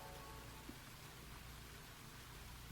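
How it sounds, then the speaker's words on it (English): Endless rain falls outside as a steady, soft hiss of drops with no breaks, faint and even throughout and heard alone. "Just outside was the sound of endless rain"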